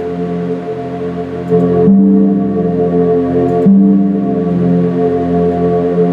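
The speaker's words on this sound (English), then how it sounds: "So what you hear is, you hear a solid tone." A steady, solid drone tone hums continuously, layered with ringing bell-like overtones that swell slightly a couple of times.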